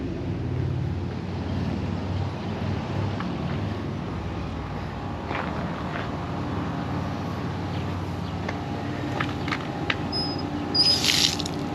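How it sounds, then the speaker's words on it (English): Tap water runs steadily outdoors behind a closed building as a water bladder is filled, a continuous rushing hiss with a low hum underneath and no talking. "go around back here and see if I can fill my water up"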